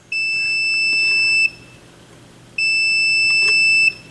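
A continuity tester touched to a turntable's RCA cable wire gives two long, steady electronic beeps of about a second and a half each, loud and close, separated by a short gap over faint background hiss.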